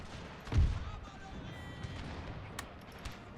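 Gunfire in the Total War: Pike and Shot battle game, one loud boom near the start followed by scattered distant shots and battle noise.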